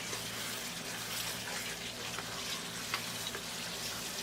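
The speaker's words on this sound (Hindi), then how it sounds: "मटन की अच्छी तरह से भुनाई करेंगे।" Mutton sizzles in a pressure cooker as it is fried for biryani, a steady close crackling hiss with faint stirring, no speech.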